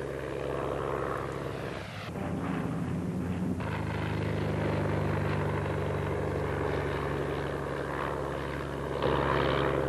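A 1944 Grumman TBF-1 Avenger torpedo bomber's propeller engine drones steadily in flight, a loud continuous roar that swells slightly as it passes.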